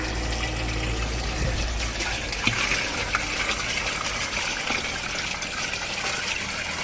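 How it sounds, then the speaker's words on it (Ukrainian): Water gushes steadily from a pump through a nylon stocking filter, a constant rushing flow with a low mechanical hum underneath and no talking. "Так, пішла водичка."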